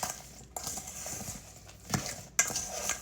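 A spoon stirs a shrimp mixture for Jamaican curry shrimp in coconut milk, giving a few soft scrapes and sharper clinks against the bowl at irregular intervals over a quiet kitchen background.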